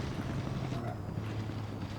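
Steady low whooshing drone from a damaged turbocharger that keeps blowing on a car in BeamNG.drive, a continuous airy rumble holding at one level with no breaks.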